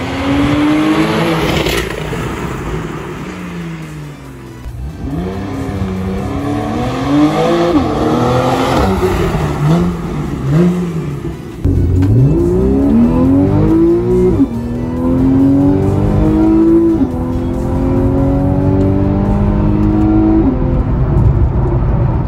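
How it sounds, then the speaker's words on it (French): A Porsche 911 991 Carrera 4S with Aerokit Cup and PDK gearbox accelerates through repeated rising engine revs, crisp quick gearshifts and a loud, resonant exhaust note, heard steadily close throughout. "les échappements offrent une sonorité exceptionnelle"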